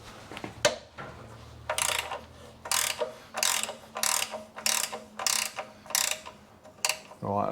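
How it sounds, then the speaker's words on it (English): A ratchet fitted with a 12mm Allen key socket loosens an oil drain plug on a 2009 Fiat 500C 1.2 petrol, giving a close, loud series of bursts of clicking strokes in a steady rhythm with brief pauses between them. "It's an Allen key socket that you need, or a regular Allen key will be fine, 12mm, so I've got one here on the ratchet"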